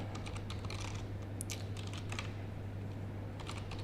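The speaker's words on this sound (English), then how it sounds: "Let me type it in the chat." Quick bursts of keystrokes on a computer keyboard as an email address is typed out, close and fairly soft, with short pauses over a steady low hum.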